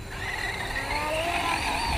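Arrma Talion RC car driving on grass on a 4S battery, a steady high electric motor whine rising slightly in pitch, close and continuous with no talking.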